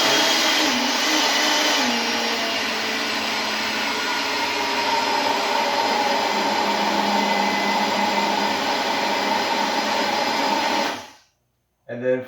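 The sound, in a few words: kitchen machine mixing cottage cheese cookie dough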